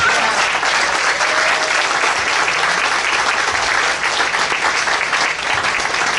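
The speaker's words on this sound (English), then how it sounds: "I'm going to do a round of applause for Tom Oosterhout" A city meeting audience gives a loud, sustained round of applause, dense, even clapping filling the room without a break for several seconds.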